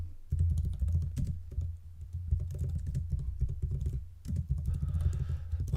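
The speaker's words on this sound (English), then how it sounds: "when I'm typing my tweets" Rapid typing on a computer keyboard, dense clattering keystrokes close to the microphone, continuous with brief pauses and no talking.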